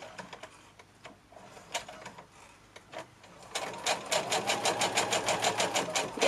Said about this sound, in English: So I'm just double stitching over that a little way.